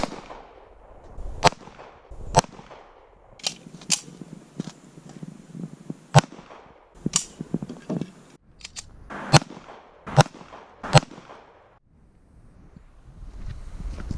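Pistol gunshots, a .45 and a .44 fired side by side at outdoor targets, ring out as about a dozen sharp, loud cracks spaced irregularly. Faint echo and background noise fill the gaps.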